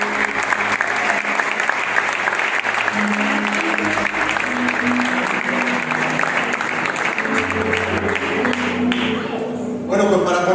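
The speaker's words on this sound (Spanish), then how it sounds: "Recibimos su palabra con un fuerte aplauso." A church congregation bursts into loud, sustained applause at a sermon, the dense clapping filling the room steadily for about ten seconds before thinning out at the very end, with faint background tones beneath.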